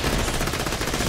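Rapid automatic gunfire rattles continuously and loudly at a guardian boss inside the vault in the video game Borderlands: The Pre-Sequel, a dense burst of shots with no speech.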